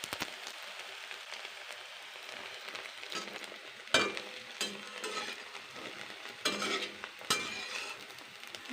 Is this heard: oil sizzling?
yes